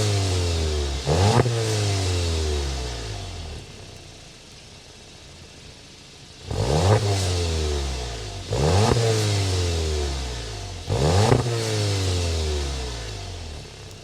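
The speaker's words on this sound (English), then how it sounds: "start it up so you can hear that exhaust note." A 2025 Volkswagen Jetta GLI idles, then revs in four sharp blips that rise and fall, its exhaust note close and throaty over a steady idle, with no talking.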